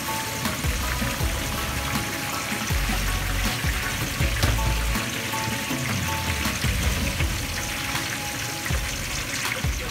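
Onions with a little pandan leaf sautéing in a pan for beef biryani, a steady close sizzle and crackle that runs without break from start to finish, with no talk over it.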